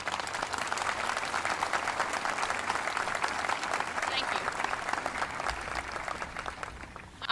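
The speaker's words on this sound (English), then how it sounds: "Please give them a round of applause." An audience at a community college commencement ceremony applauds in sustained, dense clapping throughout, with a brief spoken thanks over it.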